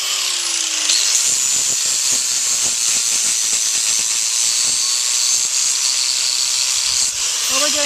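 Power grinder trimming a wild mustang's hoof in a natural barefoot trim, a loud continuous high hiss-whine running steadily throughout, with faint talk underneath.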